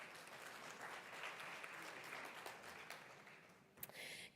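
Applause from the audience at an education conference in Dubai, a soft, steady patter of many hands that carries on for several seconds, fairly distant and quiet, with a few sharper claps near the end.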